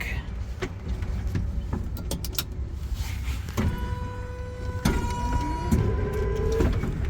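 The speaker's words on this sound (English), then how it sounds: "Contactors are getting noisy." Worn contactors click and buzz in a 1975 Sebring Vanguard Citicar electric car, with sharp close clicks followed by steady electrical hums and a rising whine over cabin noise.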